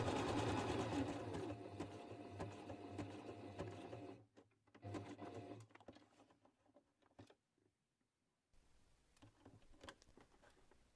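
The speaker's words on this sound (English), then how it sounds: "it's just going over the lettering fabric. And away we go sewing." A sewing machine zigzag stitches around appliqué lettering fabric, running in a continuous fast whir for about four seconds, then stopping and starting in short bursts with brief pauses and near silence.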